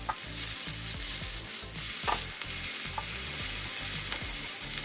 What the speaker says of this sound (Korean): 자, 열감이 오르면 양파 먼저 볶아줄게요